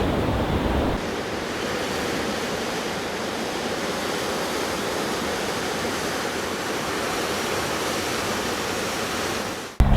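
Ocean surf roars at Cape Agulhas, South Africa, where the Indian and Atlantic Oceans meet, in a steady, loud wash of noise with wind blowing across it, continuous throughout with no voices.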